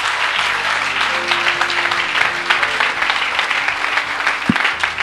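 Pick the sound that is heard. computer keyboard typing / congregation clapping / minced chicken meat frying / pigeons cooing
congregation clapping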